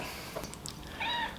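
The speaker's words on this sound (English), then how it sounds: "There's the Boo kitty." A cat gives a short, soft meow near the end, faint and brief against a low room hiss, with a couple of small rustles before it.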